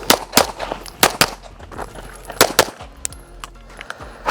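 Sharp gunshots from pistol shooting practice on the move crack out in quick, irregular bursts of single and paired shots, loud and close, with a short pause midway before more shots follow.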